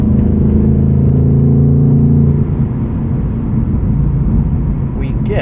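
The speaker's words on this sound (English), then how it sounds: "Ford's done such a good job tuning this exhaust. It sounds absolutely amazing." A 2024 Ford Mustang Dark Horse with a Tremec six-speed manual, its exhaust droning low and steady from inside the cabin while cruising, easing slightly in level partway through, with a voice talking over it.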